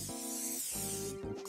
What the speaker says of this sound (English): I'm going to spray this pan down.